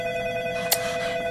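A telephone rings indoors, its bell tone holding throughout with a sharp burst in the middle, moderately loud with no talk.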